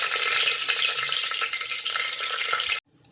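Cardamom pods, whole spices and bay leaf sizzle loudly in hot ghee for ghee rice, a dense, close frying hiss with light stirring scrapes that cuts off abruptly near the end.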